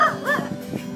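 A dog gives short yips and whimpery bow-wow barks up close, a few quick vocal bursts in about a second.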